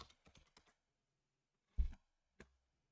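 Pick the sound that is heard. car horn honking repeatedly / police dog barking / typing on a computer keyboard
typing on a computer keyboard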